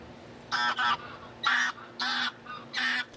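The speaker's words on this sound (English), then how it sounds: "That's a Canadian geese." Canada goose honking loudly at close range, five strong blaring calls in an uneven rhythm with short gaps between them.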